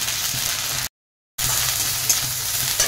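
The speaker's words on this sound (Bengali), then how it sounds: "এখন দিয়ে দেবো আদা রসুন বাটা," Ginger-garlic paste hits frying onions in a pan for a bottle gourd kofta curry, giving a loud, dense sizzle close by, broken briefly by a short gap before the hissing resumes.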